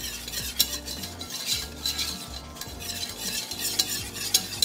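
Flour roux cooking in a pan while being stirred, with soft continuous sizzling and rhythmic scraping strokes of a utensil, moderately quiet and close, no voices.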